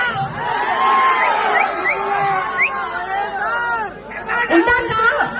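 Crowd at a political rally in Jangamgutta, loud and continuous shouting and whooping cheers from many voices up close, filling the whole stretch with dense babble and rising yells.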